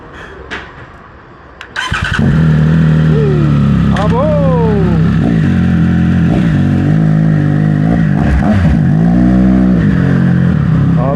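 A Triumph Speed Triple 1200 RS motorcycle fitted with a Zard exhaust starts up close by and roars loudly, revving repeatedly with rising and falling sweeps over a rumbling idle.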